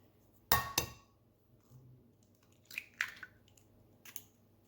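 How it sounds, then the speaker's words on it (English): Eggs cracked one after another into a bowl for a chard and cheese loaf, a sharp close tap followed by fainter clinks and wet drips at intervals in a quiet kitchen. "I'm just going to crack all 8 of my eggs"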